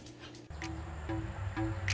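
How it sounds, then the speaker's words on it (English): A dog whimpers and gives a few short barks and yips, close by and fairly loud over a steady low background hum. "fearsome dog"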